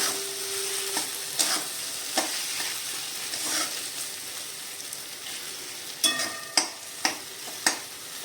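Mashed eggplant bharit being stirred in a pan with the gas switched off, giving a low fading sizzle under a few spaced spoon scrapes, then a quick run of louder taps toward the end.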